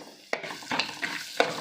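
Curry leaves, turmeric and fresh coriander fry in oil for a spicy puffed-rice snack, a soft sizzle broken by a few sharp scraping clinks of a spoon stirring the pan.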